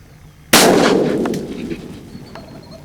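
A single loud gunshot fired at a turkey during a spring hunt in north central Oklahoma, a sharp close blast followed by a long decaying echo over quiet outdoor background.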